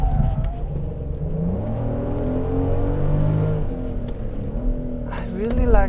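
Tire noise from a 2022 Genesis GV70 3.5T on the road, heard from inside as a steady low rumble beneath engine hum that rises and falls, with someone talking over it.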